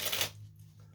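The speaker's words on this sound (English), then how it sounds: "Let's do another little shuffle here." A deck of playing cards gets a quick shuffle, a brief papery riffle that stops within a fraction of a second and leaves only a quiet room hum behind.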